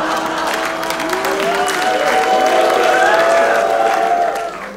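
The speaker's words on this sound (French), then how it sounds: "Il y en a qui disent ouh, d'autres qui applaudissent" A comedy show audience applauding, steady loud clapping from a crowd with some cheering and voices mixed in, fading slightly at the end.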